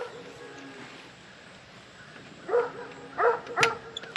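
A livestock guardian dog barks outdoors at night in a quiet rural garden, a few sharp, separated barks at a moderate distance, starting after several seconds of near silence.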